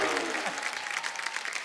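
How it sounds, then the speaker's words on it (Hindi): Studio audience applause on a televised Hindi comedy talk show, a dense steady wash of clapping that carries on for the whole span at an even, fairly loud level. "एक बार नकली बच्चन फैमिली के लिए जोरदार तालियां।"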